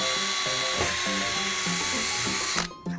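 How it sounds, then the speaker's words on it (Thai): An electric drill bores a hole through PVC pipe, a steady high-pitched whine with a strained motor hum, running continuously up close before cutting off near the end. "หลังจากนั้นใช้สว่านนะครับเจาะรูให้ตรงครับ"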